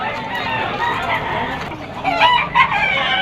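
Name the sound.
stag rooster crowing at pet market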